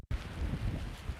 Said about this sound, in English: It's getting really windy right now.